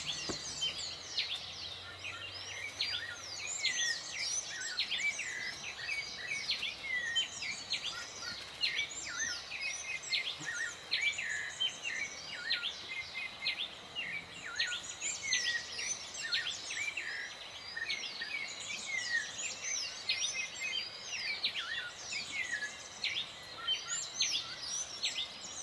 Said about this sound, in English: Do you hear the amazing bird songs?